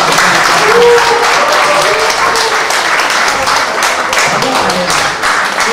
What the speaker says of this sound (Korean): 뜨거운 박수를 한번 모아보겠습니다